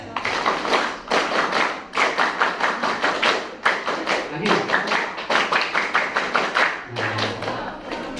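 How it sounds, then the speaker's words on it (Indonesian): Students doing the Scout rhythmic clap, a tight group pattern of sharp claps in repeated bursts separated by short pauses, with a brief spoken word between sets. "Berarti tepuk 13 adalah tepuk pramuka"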